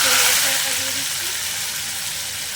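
Spice paste for mutton biryani hits hot oil with a loud, bright, continuous sizzle that fades slightly, while a voice is briefly heard underneath at the start.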